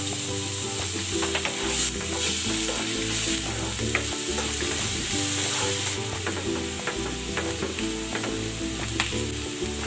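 Garlic and ginger sauté in cooking oil with a continuous close sizzle, overlaid by repeated rhythmic scraping and clicking of a utensil stirring the pan.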